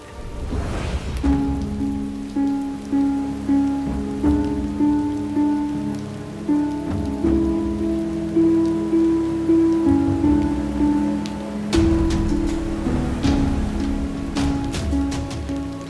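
Heavy rain falls in a steady, dense hiss that pours on without pause, while a low tonal drone of background music plays beneath it.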